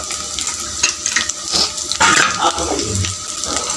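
Garlic and dried red chillies frying in hot sesame oil in a pan, a steady close sizzle with bursts of crackle and spatter, no one speaking.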